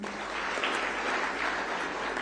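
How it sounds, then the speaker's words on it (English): Applause for the Netherlands delegation at the launch of an educational assessment conference in Africa, a steady, moderately faint patter of many hands clapping throughout, with a faint high electronic whine. "Netherlands, clap for them."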